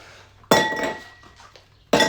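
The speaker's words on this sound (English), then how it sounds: "get my ice going in my glass" Ice cubes clink into a glass while a pink gin drink is being prepared, two sharp, close impacts about a second and a half apart, the first followed by a short rattling settle, over quiet room tone.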